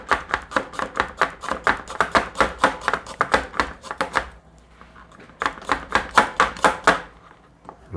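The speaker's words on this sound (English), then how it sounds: "I'm gonna chop up some of this ginger" Fresh ginger being chopped with a kitchen knife on a cutting board for a ramen broth: steady, crisp rhythmic knocks close by, a short pause, then another quick run of chops.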